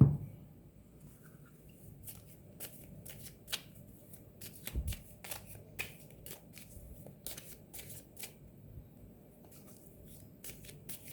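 Tarot cards shuffled by hand in a quiet room, a steady run of soft riffling bursts and crisp flicks spread through the whole stretch with no talking.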